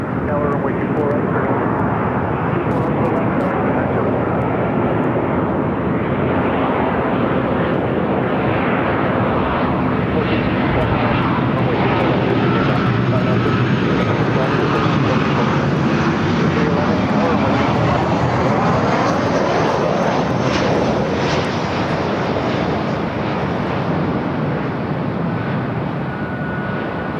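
Airplane noise at Los Angeles airport near runway 24 right, a steady loud roar filling the whole stretch with broad rumble and slowly shifting engine tone, with voices talking over it.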